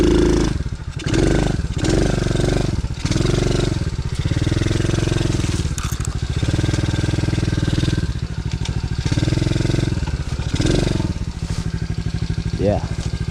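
A DB14 dirt bike engine is being downshifted on a tight wooded trail. It makes a loud, close, buzzing drone with repeated surges and dips in pitch as the revs change, ending in a sharp rising rev near the end.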